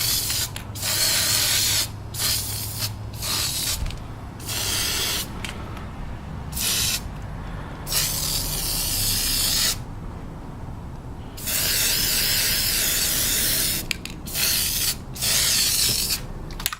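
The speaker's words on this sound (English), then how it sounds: "Rust-Oleum Universal spray paint. It does work on plastic, but it does a really glossy finish." Rust-Oleum Universal spray paint hisses from an aerosol can onto plastic in repeated bursts of varying length, loud and close, separated by brief pauses.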